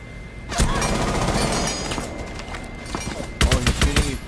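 Gunfire in the video game Rainbow Six Siege, with bursts of rapid automatic shots in two clusters separated by quieter game sounds, fairly loud and close, with a player's voice intermittently over it.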